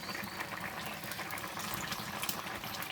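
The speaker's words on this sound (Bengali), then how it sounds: "তরকারিটি কিন্তু আমার বলক চলে এসেছে" Rui fish curry with fresh stalks bubbles at a rolling boil in a pot over a clay stove outdoors, a dense, steady simmering hiss and gurgle, close and moderately quiet, with no voices.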